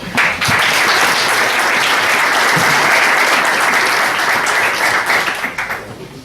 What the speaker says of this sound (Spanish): Para él también les pido un fuerte aplauso.